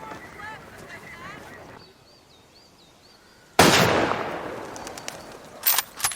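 Near a gun club, a single sharp, loud gunshot cracks out after a quiet stretch of faint talk, then decays in a rough echoing tail.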